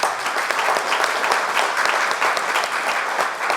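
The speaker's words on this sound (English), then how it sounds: "let's give those guys a round of applause" Banquet crowd honoring high school football seniors with a round of applause, dense, lively clapping that continues without pause.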